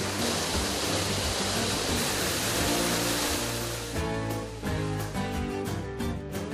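Cehennem Waterfall in Karaçay, its second section, pours out through rock it has carved: a loud, steady, close roar of rushing water fills the first few seconds, then music enters and largely covers it.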